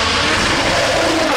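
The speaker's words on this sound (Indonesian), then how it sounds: "Ini adalah mobil balap." Toy race car making a loud, dense, continuous engine-like roar that fills the short moment on its own, with no talking.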